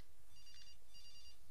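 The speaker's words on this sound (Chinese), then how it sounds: "有电话响，" Telephone ringing inside a horror video game, two repeated electronic bell bursts heard steadily at moderate level over a low game ambience, with no talk.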